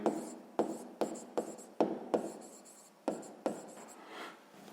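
A pen writes answers to a sixth-grade maths exercise in a series of short scratchy strokes, each starting sharply and trailing off, close and clear with no talking.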